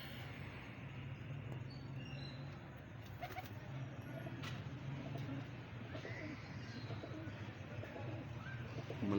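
Pigeons coo softly in a bird enclosure, low repeated rolling calls faintly heard over a steady hum of background noise.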